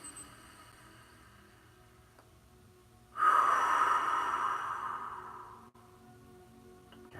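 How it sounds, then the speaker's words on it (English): A single deep inhale followed by a long, audible exhale during a guided morning meditation, soft and close, slowly fading out in an otherwise quiet room. "Deep inhale and like audible exhales."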